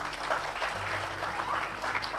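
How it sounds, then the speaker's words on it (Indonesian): A church congregation claps loudly during a sermon, a dense, continuous patter of many hands lasting the whole moment with no voice on top. "Tepuk tangan yang keras."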